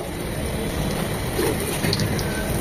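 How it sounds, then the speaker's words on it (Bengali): Chicken rolls fry in hot oil with a steady, dense crackling sizzle that sounds much like rain, constant and fairly loud with no talking. "এভাবে 2-3 বার উল্টিয়ে পাল্টিয়ে রোলগুলো ভেজে নেব।"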